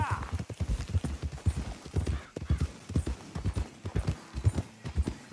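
Horse hooves clip-clop steadily at a riding gait in a western video game, close and rhythmic, with a short break midway, while a voice speaks over the hoofbeats.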